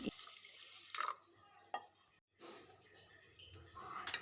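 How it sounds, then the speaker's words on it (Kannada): Washed, soaked pulses being drained through a strainer at home, with water splashing and dripping in short bursts and a brief pause midway, close and moderately loud. "ಅದರಿಂದ ನಾನು ನೀರನ್ನು ಬಸಿದು ತೊಳಿತಾ ಇದ್ದೀನಿ"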